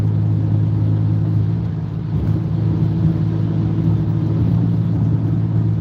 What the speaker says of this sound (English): That's a turbo escape titanium model. So they have that smaller turbo engine.